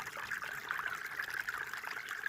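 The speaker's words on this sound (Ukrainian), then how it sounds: "вода тече" A steady, continuous trickle of a Carpathian mountain stream in spring, close and moderately loud, with no voices.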